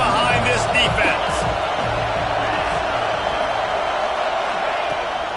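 A football stadium crowd at an NC State game roars behind the defense on a third down, a broad, steady swell of cheering under a commentator's voice.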